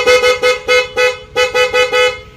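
A loud, close motorcycle dual horn honks in a run of about nine short blasts, the tone steady and bright, with brief gaps between them.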